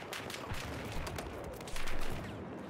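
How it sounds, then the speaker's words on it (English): Gunfire is aimed at the player in a Battlefield 4 match: a fairly faint, rapid run of sharp shots, with one louder burst close by near the end. "Yeah, I know you're shooting at me"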